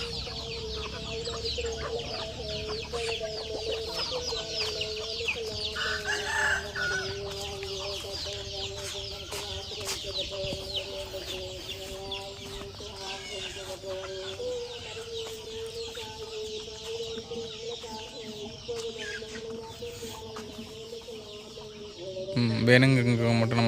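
Free-range country chickens (nattukozhi) cluck steadily in a farm flock, with a rooster crowing among them; a dense, continuous chorus of hens, a loud rise near the end, and a voice talking faintly underneath.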